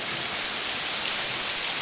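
Steady rain pours down outdoors in Winnipeg, a close, uniform hiss of drops hitting surfaces throughout, with no voices.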